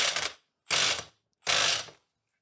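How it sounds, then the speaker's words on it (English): An impact wrench hammers at an alternator pulley nut in three short, loud rattling bursts separated by brief silences. "I'm just going to hit that with the impact and get that off here"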